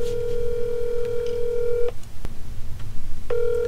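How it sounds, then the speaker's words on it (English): A telephone being dialed to place a call: two long steady dial or DTMF tones separated by a pause with a sharp click, heard close and clear with no talking. "make a call"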